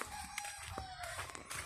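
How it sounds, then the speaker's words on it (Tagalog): Tethered chickens and a rooster heard faintly outdoors, with a thin drawn-out crow and scattered clucks over a steady background hiss. "maraming manok na tawag niyan tinalian no"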